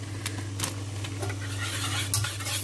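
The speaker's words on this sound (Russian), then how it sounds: "Всю эту красоту перемешиваем." Lasagna sauce thickened with a pinch of nutmeg stirred in a pot, soft scraping and clinking of a utensil over a low steady hum, close and quiet with no voices.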